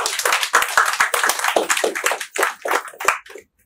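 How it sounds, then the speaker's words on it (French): A business-clinic audience bursts into dense, steady applause, many hands clapping close and loud for about three seconds before it abruptly stops. "Est-ce qu'on peut l'applaudir, s'il vous plaît?"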